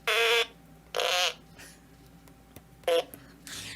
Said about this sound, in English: the fart piano.